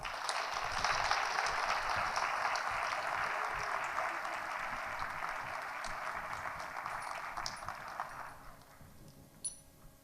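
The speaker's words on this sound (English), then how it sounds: "Let's go ahead and give them a round of applause." Audience applause for senior honors students at a high school awards ceremony, steady and broad for about eight seconds before fading out into a quiet room.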